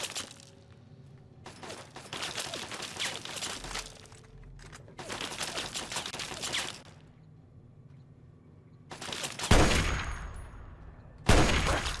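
Automated turret gunfire in the video game Fallout 3, with bursts of sharp shots and rattling fire coming in several loud clusters, some longer volleys and sudden heavy blasts near the end.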